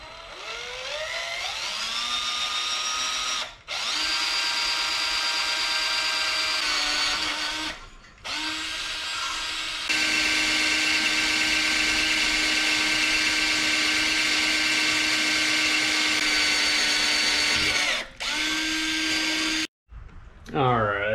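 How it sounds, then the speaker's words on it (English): Black & Decker power drill boring pilot holes in intercooler mounting tabs, long whining runs with rising and falling pitch, briefly stopping between bursts, close and loud. "take the good old trusty Black & Decker drill and"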